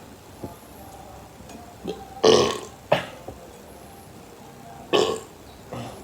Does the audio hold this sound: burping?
yes